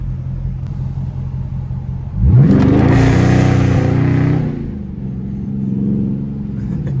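A Dodge SRT launches hard in a drag run, its engine rumbling low before surging into a loud, rising rev and a sustained roar that holds for a couple of seconds, then drops back to a steady idle-like rumble.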